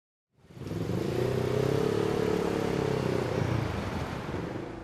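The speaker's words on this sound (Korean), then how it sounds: "오토바이들이 늦은 밤까지 주택가로 몰려들고 있는데요" A motorcycle roars into a residential street late at night, rising quickly out of silence into a loud, sustained rumbling engine drone that holds steady before easing slightly, close by with no voices.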